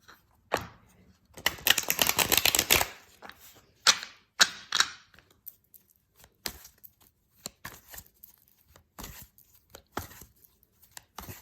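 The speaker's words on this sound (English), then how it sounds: "shuffle these." A tarot deck is riffled in one long rapid burst, followed by scattered light taps and snaps as the cards are squared and handled.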